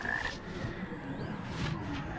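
Toads croak repeatedly in the Hogwarts Legacy video game, a steady chorus of low rattling calls running throughout with no talk over it.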